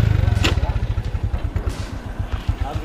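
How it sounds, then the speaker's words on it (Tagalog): A motorcycle engine idles close by, its exhaust producing a rapid, rhythmic train of low pulsing thumps, with a brief clatter and faint background voices. "Ganda ng tambutso."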